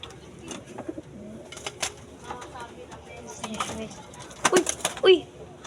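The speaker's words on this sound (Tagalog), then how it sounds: "May nawawala kalapati yata" Pigeons cooing in a coop, soft repeated coos with a few sharper calls and a brief flutter, while people talk quietly nearby.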